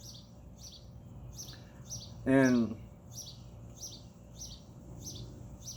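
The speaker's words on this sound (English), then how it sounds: "with the birds singing across the street on the line or in one of the trees above" Birds chirp and tweet in short repeated bursts outdoors across the street, moderately distant and steady, with a louder nearby call or voice in the middle and a faint background hum.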